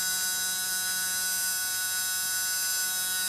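A small electric motor runs steadily during a supercapacitor test, giving a constant high-pitched whine and buzz with no change in speed or level, close and alone without any voices.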